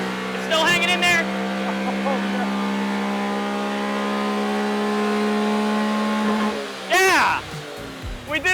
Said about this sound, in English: Listen to those ITBs roar.